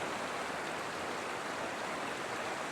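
A spring runoff creek in the Eastern Sierra rushes past nearby, a dense, unbroken hiss of flowing water that holds an even level for the whole stretch.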